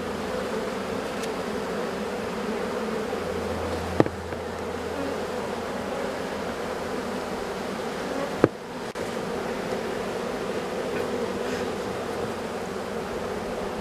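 Honeybees buzz in a dense, unbroken drone around hives troubled by robbing and calmed with smoke, joined by two sharp clicks partway through.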